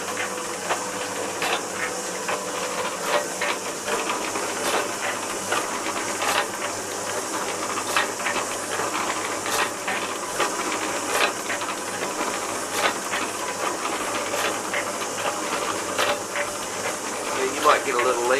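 Old bore pump running after a top washer replacement as pressure builds, a steady mechanical hiss with rhythmic clicking and ticking pulses repeating throughout, close and continuous, with someone talking over it.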